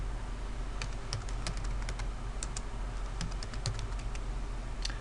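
Fingers type on a computer keyboard to enter a name into an email, giving a close, steady stream of light key clicks with slightly irregular rhythm over a soft background hiss.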